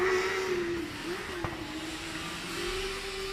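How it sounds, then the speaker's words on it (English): A four-cylinder Formula Student race car engine drones steadily at moderate distance, its pitch holding fairly even with a slight dip midway, no voices over it. "I think it's also the first four-cylinder sound"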